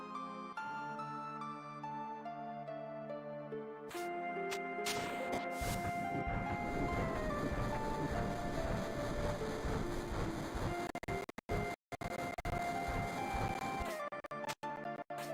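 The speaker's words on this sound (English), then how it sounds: "I need to move this train." A train in the video game Final Fantasy VII sets off with a short melodic tone, then a loud continuous rumbling roll with clattering runs over several seconds, broken near the end by abrupt cutouts, with no speech.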